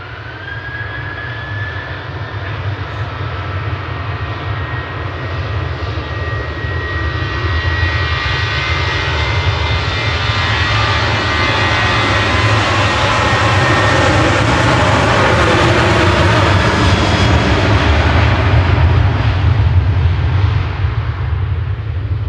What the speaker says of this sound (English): Ryanair 3204 there, headed off to Rome. That's GRUKB operating that flight, 737-800.